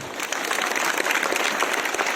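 A live audience at a stage show applauds, dense steady clapping from many hands filling the whole stretch at fairly close range, with no talk over it.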